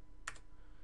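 A single quick keystroke on a computer keyboard while coding in Java, faint and brief against a quiet room hiss.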